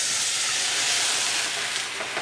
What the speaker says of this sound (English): And I'm deglazing the pan.